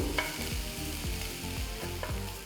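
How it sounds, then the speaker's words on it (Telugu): Onions sizzle steadily in a pan while a spoon stirs them in repeated scraping strokes, close and clear, with no talking. "ఉల్లిపాయల్ని రెండు మూడు నిమిషాలు వేస్తే సరిపోతుంది"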